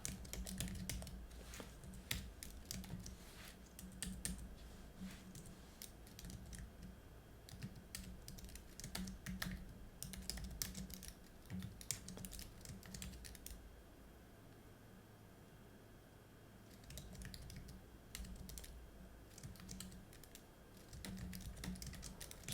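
Steady clatter of typing on a computer keyboard, bursts of quick keystrokes with brief pauses, close and moderately loud over a low room hum, no voices.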